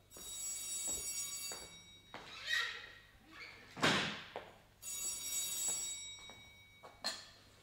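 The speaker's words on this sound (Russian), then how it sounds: "Простите, это телефон в аппаратной." A telephone in a radio station's equipment room rings in repeated bursts, with clunks and bumps between the rings, fairly close in a quiet room.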